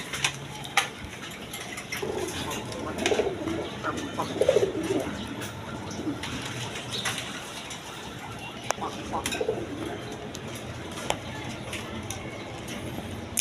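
Domestic pigeons at a farm coop, one hen sitting on eggs in a clay pot, coo softly in bursts through the clip, mid-distance, alongside someone talking and faint clinks and rattles of cage fittings.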